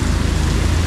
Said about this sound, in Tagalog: Napakalakas ng ulan, oh, grabe.